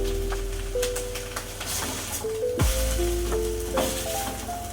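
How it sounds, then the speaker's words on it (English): Slices of already-cooked ham warm in a hot pan, giving a steady, close, moderately loud sizzle with some faint tonal hums over it. "Let it sizzle a bit."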